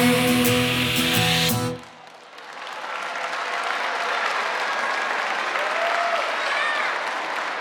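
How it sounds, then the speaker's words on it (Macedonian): A large audience at a children's festival concert with the Macedonian Philharmonic breaks into sustained, dense applause that starts just after the music ends and holds steady to the end, with a few faint cheers. "Ајде уште еден најсилен аплауз за овие наши прекрасни поточиња!"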